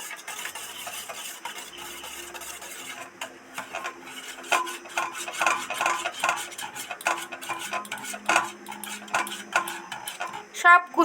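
Egg yolk, white and spice mixture for egg bhuji gravy is whisked with a beater in a bowl, giving rapid, uneven metallic clicks and scraping that build louder toward the end.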